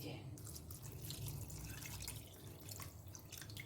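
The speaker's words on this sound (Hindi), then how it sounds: "आप पानी डाल दीजिए।" Water is poured into a pot holding crushed black pepper and jaggery for a ginger brew, a quiet, steady trickle and splash heard close up.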